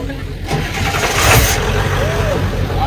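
A car engine cranks and catches, then revs up and settles into a rumbling idle nearby, with a voice talking over it.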